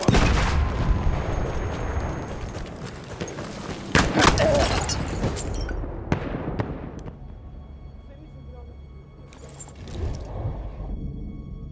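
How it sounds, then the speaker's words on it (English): Battlefield 1 combat: a grenade bursts amid rattling gunfire and booms, with a heavy blast around the middle followed by scattered sharp shots and a fainter rumbling tail. "Grenade!"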